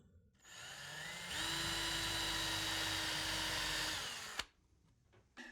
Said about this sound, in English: And drill through.